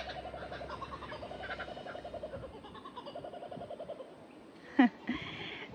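Birds call outdoors on a November day, a steady chorus of mixed chirps and calls at moderate distance, with a couple of sharper, louder notes near the end and no voices.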